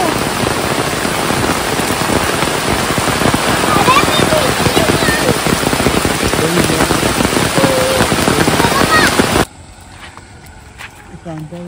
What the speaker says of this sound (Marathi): जोरात पाऊस आलेला आहे. खूप म्हणजे खूप.